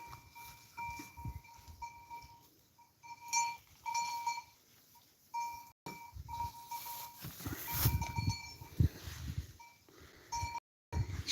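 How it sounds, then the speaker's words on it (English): A flock of sheep browses on wild grapes in warm mountain country in Portugal, with scattered bleats, soft chewing and rustling, and a few faint bell clinks that come and go. "Sheep are enjoying some wild grapes."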